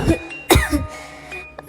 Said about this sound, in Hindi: आपको कितनी ज़्यादा खांसी आ रही है।